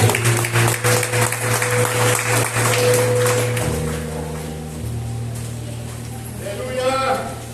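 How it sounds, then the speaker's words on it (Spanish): A church congregation applauds during a Spanish-language Easter resurrection sermon, a dense wash of clapping that fades gradually over several seconds, with faint background tones underneath. "Haz un aplauso al que vive y resta."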